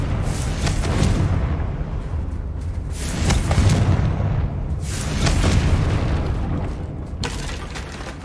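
Confringo explosive spell blasts going off in Hogwarts Legacy, a series of loud, booming fiery bursts that rise and fall in overlapping waves, with no talking heard.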